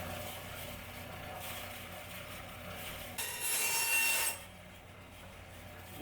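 A horn plate for traditional Korean hwagak horn craft is cut with a hand tool, giving a steady rasping, scraping noise that swells into a louder, harsher stretch near the end before settling back.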